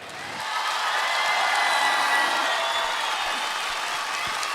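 A theater audience at a comedy stage show bursts into sustained applause, a dense wash of clapping that swells quickly and holds steady for several seconds, close and loud, with no speech over it.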